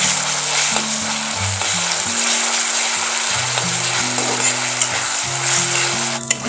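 Ginger garlic paste frying with onions in a pan for rajma, a loud continuous sizzle with occasional stirring scrapes, close up and steady throughout, no talking over it.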